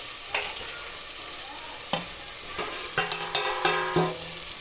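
Peas, potato and carrot are stirred in a hot pan for a mixed vegetable dish, with a constant sizzle and several sharp scrapes and knocks of the spoon against the metal, coming close together toward the end.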